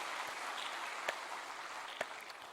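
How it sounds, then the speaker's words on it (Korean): Church congregation at a Wednesday prayer service applauding one another: a faint, dense, steady wash of distant clapping with a couple of sharper claps standing out. "여러분 격려 박수 서로에게 한번 하겠습니다"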